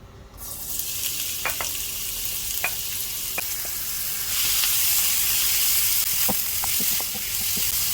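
Onion and garlic sizzling in corn oil in a pan, a steady frying hiss that swells partway through, with a few light clinks of stirring.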